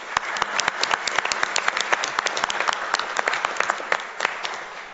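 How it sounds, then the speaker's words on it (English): Applause from the audience at a city council meeting, a steady patter of many hands clapping together, moderately loud, lasting a few seconds. "If we can all please give them a round of applause."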